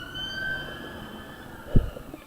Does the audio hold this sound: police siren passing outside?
yes